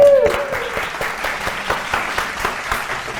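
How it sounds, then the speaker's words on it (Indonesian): Studio audience applauding both teams on a televised religious quiz show, a lively sustained round of clapping with a brief tone at the start and no voices over it. "tepuk tangan dulu untuk kedua tim"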